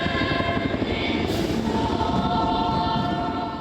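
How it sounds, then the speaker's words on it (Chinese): A CH-47 transport helicopter carrying a large national flag passes overhead at a National Day ceremony, its rotor roar loud and steady, rising to a sustained drone. "CH47运输直升机吊挂历届双十典礼上大面的国旗飞过天顶"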